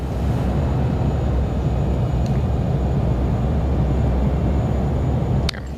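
Airliner landing rollout in a home-cockpit flight simulator with reversers deployed, a loud steady broadband roar of engine and rolling noise that drops slightly at the end, with no talking.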